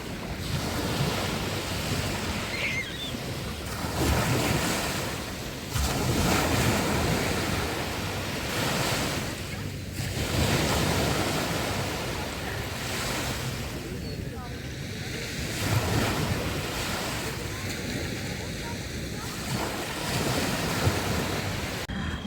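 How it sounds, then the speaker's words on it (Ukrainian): Steady rush of Black Sea waves washing ashore at night at Langeron beach, Odesa, swelling and receding in broad surges, mixed with wind buffeting the microphone. "Давайте ще декілька секунд моря."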